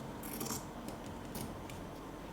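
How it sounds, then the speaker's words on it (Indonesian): Scissors snip through satin ribbon fabric while making a hair bow, giving a few quiet, crisp cutting sounds in short bursts over a faint room hiss. "Kita gunting."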